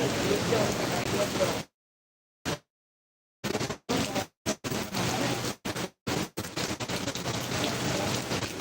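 Steady rain pattering on a surface, broad and continuous, broken by a few abrupt dropouts before the downpour resumes.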